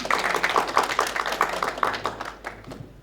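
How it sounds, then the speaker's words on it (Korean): At a Korean bio-industry forum, a small audience claps warmly in a brief burst of quick, close claps that fade away within a few seconds. "다시 한번 따뜻한 박수로"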